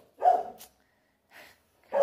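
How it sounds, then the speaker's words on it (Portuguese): A female dog barks three times, sharp and close, with short gaps between the barks and no talk. "Cachorra, velho. Ô cachorra dos infernos."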